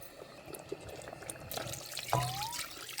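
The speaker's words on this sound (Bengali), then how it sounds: "ব্লেন্ডার ধো, অল্প পানি দিয়ে দিই।" A small amount of water is poured into a kitchen blender jar to rinse it. The quiet splash and trickle is brief and close, rising in the middle of a hushed background.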